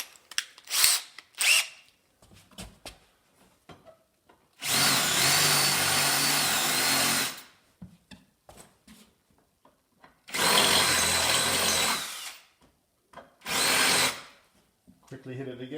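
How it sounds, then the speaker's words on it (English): A big power drill bores into wood while installing stained-glass window iron bars, running in three loud, steady bursts of several seconds each, with quieter handling knocks and brief clicks between them, heard up close. "Switch back to your big drill."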